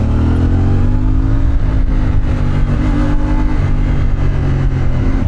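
A 2024 CF Moto 450MT two-cylinder motorcycle engine revs loud and close, its pitch rising and falling through several throttle blips over a steady, strong idle, with no talking.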